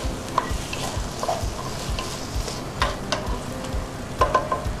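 Diced vegetables are stirred in olive oil in a pot while making Ukrainian red borscht. Soft, continuous sizzling sits under occasional close scraping clicks of the spoon.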